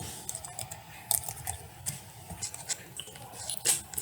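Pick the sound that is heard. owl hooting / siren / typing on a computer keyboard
typing on a computer keyboard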